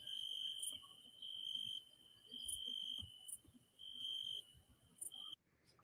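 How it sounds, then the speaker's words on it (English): Crickets chirp in short, regular pulsing bursts at moderate distance, with a faint low rustle beneath and the chirping cutting off near the end; nobody speaks. "I hear crickets"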